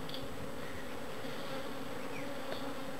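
Honey bees hum densely and continuously around an open hive during a midsummer inspection, a close, steady buzzing drone with no talk.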